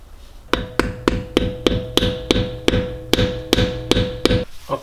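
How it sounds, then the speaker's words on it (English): A screwdriver or punch tool is tapped against a staked axle nut on a BMW E9x xDrive, about a dozen sharp metallic hammer strikes in a steady rhythm, each ringing briefly, close and loud with no talking. "to unstake the axle nut, you could just take a screwdriver or a punch tool and then just bend it out of the stakes."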